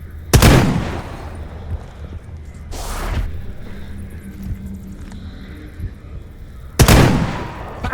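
Barricada shotgun blasts fired at a Chimera in Stalker Gamma: two heavy, booming shots several seconds apart, with a fainter burst between them over a steady low rumble.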